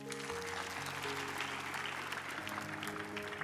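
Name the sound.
congregation applause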